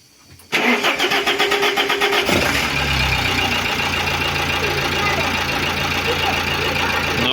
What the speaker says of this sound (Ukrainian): Хай двигун працює, хай трошки поробить.